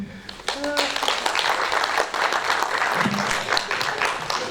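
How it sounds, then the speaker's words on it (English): Audience applause at the close of a high-level dialogue session during a university research week, dense clapping that holds steady throughout with some background murmur and a few voices mixed in. "Another round of applause for this great debate here, this dialogue."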